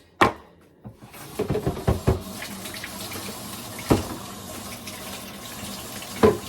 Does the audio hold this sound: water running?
yes